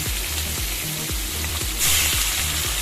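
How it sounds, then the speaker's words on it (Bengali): Fish deep-frying in hot oil in a kadai gives a dense, close sizzle with a low rhythmic thumping beneath, swelling into a brighter, louder hiss near the end. "আর তেলটা গরম হয়ে গেছে, আমি প্রথমে মাছগুলো আগে ভাজা করে নেব।"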